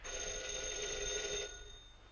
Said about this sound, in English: That's your phone, isn't it, Mr. Applegate?